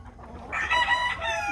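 Chickens on a small farm with goats cluck and crow, a short burst of squawky fowl calls rising over a low background rumble, fairly close.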